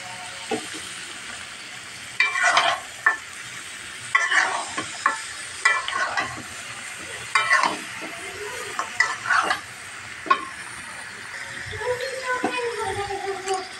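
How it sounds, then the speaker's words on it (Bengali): Beef head meat frying in a pan of cooked-down spice paste, heard as a close sizzle with repeated scraping stirring strokes in short bursts, and a voice speaking briefly near the end. "এখন আমি মশলাটা কষানো হয়ে গেছে, এখন আমি মাথার মাংসটা ঢেলে দিলাম।"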